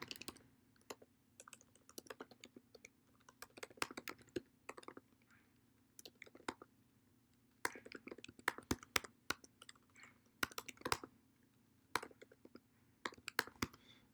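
A project name is typed on a computer keyboard during IntelliJ project setup, heard as close, quiet bursts of rapid keystrokes separated by short pauses, with no talking.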